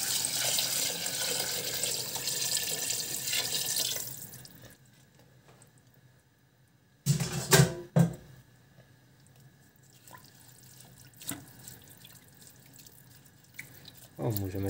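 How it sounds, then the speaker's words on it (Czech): Water pours steadily from a tap into a pot of nettles for a soup, a loud, continuous rush that stops, followed by a few clanks and splashes of the pot and a short renewed trickle. "A zalejeme vodou, aby byly kopřivy ponořeny."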